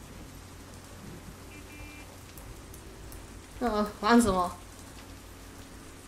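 Soft steady rain patters in the Kuukiyomi video game, a faint continuous hiss under a brief burst of talk from a player.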